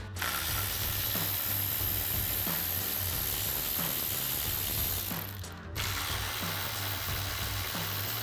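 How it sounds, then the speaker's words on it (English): A ratchet with a 10mm socket turns headlight bolts on a Jeep Wrangler JL, giving steady rapid clicking close up with a brief pause partway through. "So we'll go ahead and use our 10mm socket and remove those bolts."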